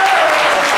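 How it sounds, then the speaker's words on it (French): Loud, dense applause from a studio audience at a television broadcast honoring a young writer's prize, a steady wash of clapping for under a second. "on peut l'applaudir très fort"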